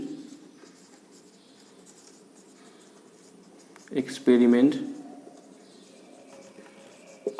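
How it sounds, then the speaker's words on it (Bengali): Faint scratching of writing on a board or paper during a probability math lesson, soft and intermittent over a quiet room hum, with a brief voice sound partway through. "এবার আমি লিখব"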